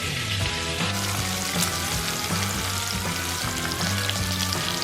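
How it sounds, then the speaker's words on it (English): Bacon sizzles and crackles steadily as it fries crisp in a pan, a dense, close, continuous frying hiss with small pops throughout and no talk. "You can see we're getting that bacon really crispy"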